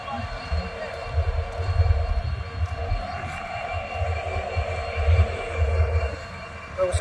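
A train pulls in at Vighanwadi railway station during a trial run, a steady low rumble of wheels and engine with rail hum running throughout, loudest near the middle and end, with people talking and a crowd around it.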